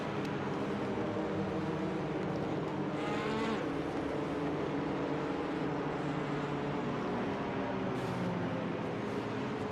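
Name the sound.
race cars exiting the pit lane in iRacing video game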